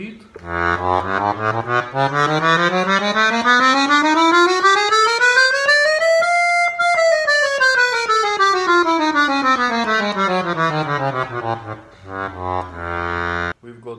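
A Siwa & Figli Stroller 96-bass accordion sounding its bassoon reed register, a loud sustained reedy tone gliding steadily upward in pitch and then back down, with brief chordal bursts at the start and end.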